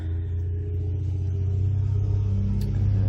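A noisy truck rumbles past outside a jewelry-making workshop as a steady, low engine drone that slowly swells in loudness, heard alone without talk.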